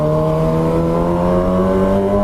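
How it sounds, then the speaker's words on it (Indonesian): A Kawasaki ZX25R motorcycle with a loud aftermarket exhaust holds a steady, high-pitched engine note, close and loud throughout with no talk. "Knalpotnya gacor banget ini, sumpah."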